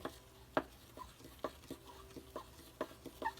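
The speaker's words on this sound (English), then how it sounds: "Watching me stir." A bentonite clay mask is stirred in a bowl, giving soft wet scraping and irregular light taps against the bowl, quiet and close with no talk.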